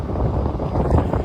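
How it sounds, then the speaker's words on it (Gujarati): Strong, cold wind blowing over the sea off Porbandar, heard from a pomfret-fishing boat; a steady, loud rushing buffet close to the microphone with low rumble, no talk. "પવન પણ ફૂલ છે ભાઈ"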